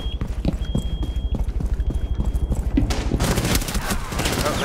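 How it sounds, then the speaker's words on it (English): Rapid rhythmic gunfire and footstep-like thuds pulse steadily in Rainbow Six Siege, building into a dense, louder burst of shooting near the end, with voices talking over it. "Oh, they're shooting through."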